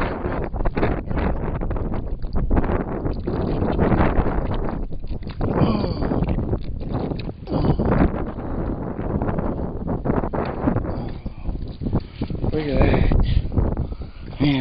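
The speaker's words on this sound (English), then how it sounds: "It's windy out here today." Steady wind buffets the microphone throughout a dry, open outdoor area while people talk and move around, the gusty roar staying loud and continuous.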